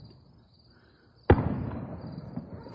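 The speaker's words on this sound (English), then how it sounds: "Firework." A firework bursts outside at night with one sharp loud bang, followed by a crackling rumbling tail fading over a couple of seconds against quiet insect chirps.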